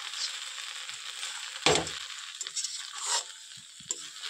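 A fish head sizzles softly in a frying pan while a spoon stirs it, giving a steady low frying hiss with a sharper scrape partway through and a few light clinks.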